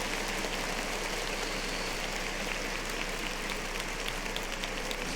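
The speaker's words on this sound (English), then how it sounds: "Clap it up for that, man" Dense, even crowd clapping at a show, a continuous hiss-like wash of many hands with no breaks, set over a low steady hum.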